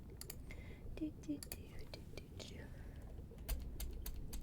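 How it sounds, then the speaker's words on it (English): Typing on a computer keyboard in a quiet room, heard as irregular sharp clicks scattered through the clip and mixed with soft whispering and breathy mouth sounds. "Clickety clackety on my keyboard"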